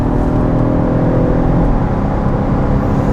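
BMW F30 sedan with a high-revving engine accelerating, a loud steady engine drone with rising harmonic tones heard up close and uninterrupted.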